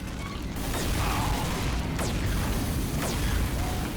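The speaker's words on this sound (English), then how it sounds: "Push the cart!" Payload cart rolling along in the Team Fortress 2 video game, a continuous mechanical creaking rumble with occasional ratcheting clicks amid dense game noise, with no talk.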